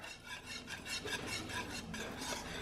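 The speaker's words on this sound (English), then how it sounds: "you want to sprinkle your cheese in here and stir" Cheese being stirred into a hot sauce in a pan off the heat for a Kentucky Hot Brown, a close, rhythmic scraping and rubbing of the spoon against the pan, repeated strokes with no talking.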